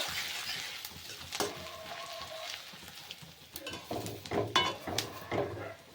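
Panch phoron spices and ginger paste frying in a pan with dried red chillies, a quiet sizzle broken by scrapes and clinks of a spoon stirring against the pan.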